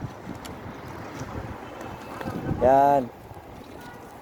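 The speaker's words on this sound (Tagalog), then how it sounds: "Lakas kasi ng hangin." Strong gusting wind at an outdoor secondhand-shoe market buffets the microphone with a rumbling roar, while someone speaks briefly.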